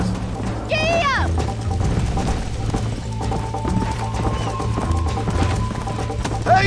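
Horse hooves clip-clop steadily through a Red Dead Redemption ride, with a horse whinny near the start and a voice talking over the continuous gait and background game sounds.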